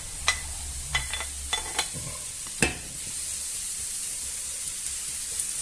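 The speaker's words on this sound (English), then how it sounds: "add the garlic and onion, and I'm going to brown it off" Garlic and onion brown in a hot pan, giving a steady bright sizzle, with a few sharp spoon clicks and scrapes early on before the frying settles into a continuous hiss.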